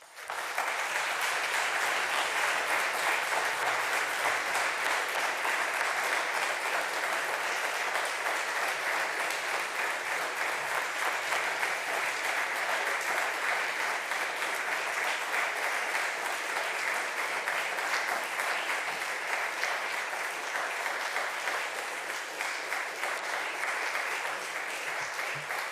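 An audience gives long, continuous applause after a lecture, a dense even wash of clapping that stays steady throughout without letting up.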